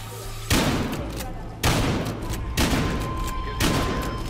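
Shotgun blasts in the video game Battlefield Hardline, four loud, evenly spaced booms about a second apart, each with a reverberant tail, close and dominant.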